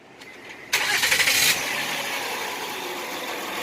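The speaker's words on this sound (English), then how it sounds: "All right, so Jim is firing it up" A 2011 Honda Pilot with a 3.5L engine cranks and catches with a sudden loud burst, then settles into a steady, even idle that carries on to the end.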